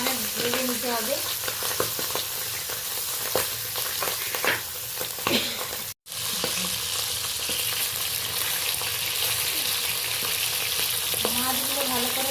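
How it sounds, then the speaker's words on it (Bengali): Pabda fish frying in hot oil, a dense, steady crackling sizzle running almost throughout, with occasional louder pops and spatters and a brief break partway through; no one speaks. "অল্প অল্প মাছ দিয়ে আমি মাছগুলো সব ভেজে নেব। এই মাছটা বেশ ফাটতে থাকে"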